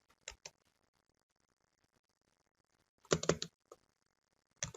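Bursts of computer keyboard typing, a few quick clustered keystrokes early, then a louder dense flurry later with a final short burst, near and alone in a quiet room.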